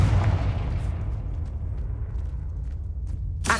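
A deep rumbling explosion from the Confringo spell in Hogwarts Legacy. It comes in loud and then decays into a long, low roar that fades slowly, with a sharp burst near the end.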